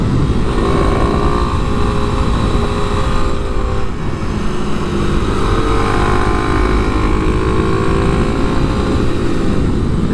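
A 2023 Kawasaki KLX300 SM supermoto rides along at speed, its engine a steady, loud drone blended with heavy, continuous wind rush, with no pauses throughout.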